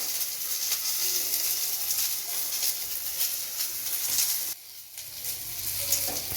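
Onions frying in a pan alongside green chillies, giving a continuous moderate sizzle with stirring scrapes and a brief dip in the hiss near the end.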